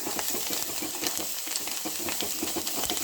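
Masala with coriander leaves sautéed and stirred in a pan for a Marathi mixed toor and moong dal, a steady close sizzle broken by frequent short scraping strokes, with no voices.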